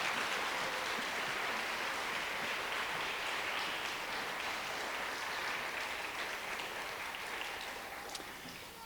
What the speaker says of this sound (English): let's give one more round of applause for Miss Davis's class